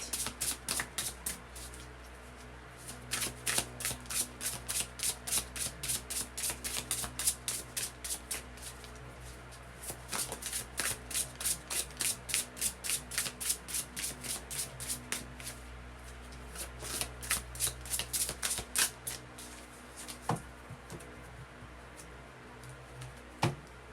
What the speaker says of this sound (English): I just want to make sure I get these shuffled really well.